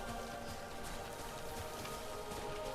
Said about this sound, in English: Still raining up here, but not heavily.